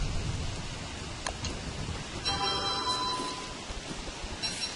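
Steady rain hiss fills the scene in the survival video game Don't Starve, a continuous wash of rainfall with a faint tonal chime partway through, no voices.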